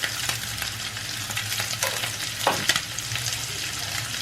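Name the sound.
frying prawns with turmeric in oil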